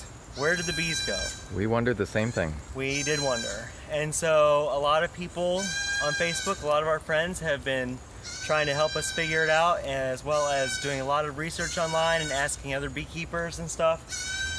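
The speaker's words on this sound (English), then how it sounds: "there's over here is the goat pen, and they can see us, and they're trying to get our attention." Goats in a nearby goat pen bleat repeatedly and loudly throughout, their cries overlapping with two people talking outdoors.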